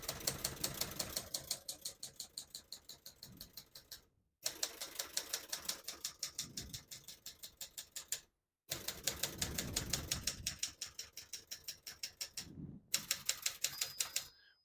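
Typing on a 1974 Adler J5 vintage portable typewriter: a rapid, close string of sharp key strikes in four bursts, each separated by a brief silent pause.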